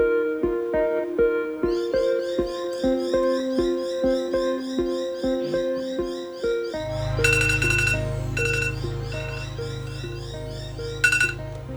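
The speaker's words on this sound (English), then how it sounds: "I also have a 5 PM alarm every day, which basically tells me to just stop" Daily 5 PM phone alarm ringing, a rhythmic chiming melody repeating for several seconds, then a louder sustained buzzing tone with bright bell-like bursts, close and alone.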